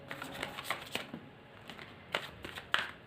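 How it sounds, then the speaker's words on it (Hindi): Tarot cards are shuffled up close in a quiet room, giving soft riffling bursts and light slaps in an uneven rhythm with no talking. "आपके लिए बहुत कार्ड्स गिर रहे हैं।"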